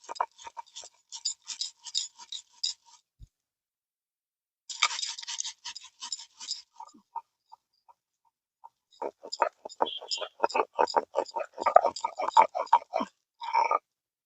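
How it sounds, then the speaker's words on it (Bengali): White and black mustard seeds with poppy seeds are ground with water on a stone, giving bursts of close, rhythmic scraping and knocking strokes separated by short pauses. "এবার জল দিয়ে এগুলোকে বেটে নেব।"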